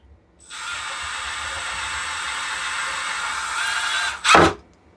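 Power drill with a wood bit running steadily in a workshop for nearly four seconds while building a wooden key hanger, ending in a brief louder burst as the bit bites or the trigger releases; no talk.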